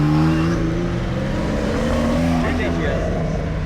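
A Porsche 911 GTS pulls away during a parade, its engine note climbing steadily and loud, with a voice talking over it.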